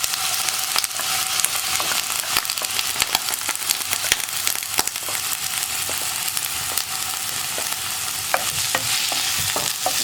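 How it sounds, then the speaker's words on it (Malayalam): Ash gourd pieces fry in hot coconut oil with a steady, loud sizzle, broken by frequent scraping stirs of a spoon against the pan throughout. "ഇതിലേക്ക് നമുക്ക് നമ്മൾ കട്ട് ചെയ്ത് കഴുകി വൃത്തിയാക്കി വെച്ചിരിക്കുന്ന കുമ്പളങ്ങ പീസുകൾ ചേർത്ത് കൊടുക്കാം"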